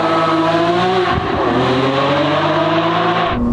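A Novitec-tuned Lamborghini Aventador Ultimae Roadster howls as its engine revs hard and high, loud and close, with a brief dip and gear change before wailing on, then cutting off abruptly at the end.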